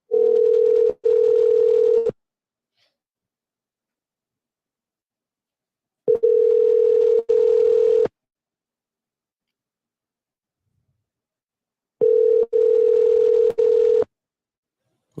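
A telephone line tone repeats three times, each a steady two-second burst briefly interrupted, separated by about four seconds of silence, like a call ringing out unanswered.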